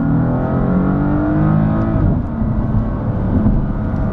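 A 2017 BMW M3 with a dual-clutch transmission in manual shifting mode accelerates hard. Its loud engine note climbs, drops briefly at a quick gear change midway, then pulls up again, with no one speaking.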